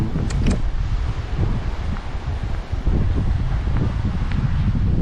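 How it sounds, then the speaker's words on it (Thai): Strong wind roars steadily across the microphone high up in a church built entirely of teak wood, with gusty low rumbling and faint rustling throughout and no speech. "โอ้โห ลม"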